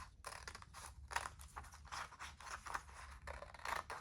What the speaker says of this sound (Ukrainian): Ножицями обережно вирізаємо.